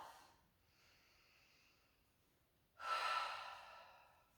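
A slow, soft inhale drawn in through the nose during a calm yoga session, followed by a louder, breathy exhale released through the mouth, heard close up with no talking.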